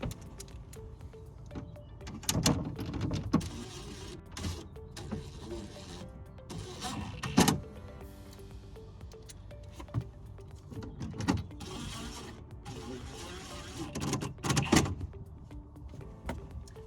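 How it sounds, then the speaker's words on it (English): A bolt is being screwed into the bed of a Rivian R1T pickup truck, heard as intermittent sharp metallic clicks and ratcheting bursts with quieter handling noises between them, close by and with no talking. "All right, let's get this screwed in."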